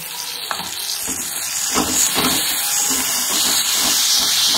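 Garlic and ginger paste fries in a pan with a loud, continuous sizzle and hiss, broken by several scraping stirs of a spoon, with no talking.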